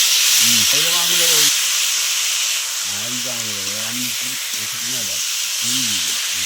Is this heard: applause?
no